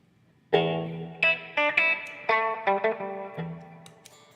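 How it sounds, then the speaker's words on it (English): An electric guitar runs through a Mad Professor Super Black pedal voiced like a reverb amp, playing sustained chords and single notes with a clean-to-driven tone and a reverb tail after a short silence. "So the super black is basically a super reverb"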